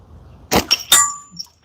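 A shot rings a steel bell target while plinking, giving a sharp metallic clang followed by a couple of quick ringing hits and a short bright tone that decays.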